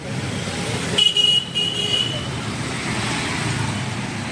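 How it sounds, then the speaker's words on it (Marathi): Road traffic at a busy corner where an auto-rickshaw driver pulls over, with a steady roar of passing vehicles and a car horn honking for about a second near the start. "इथं ट्रॅफिक व्हायला लागली जरा पुढं जाऊन थांबतो कॉर्नरला मी बघा ट्रॅफिक"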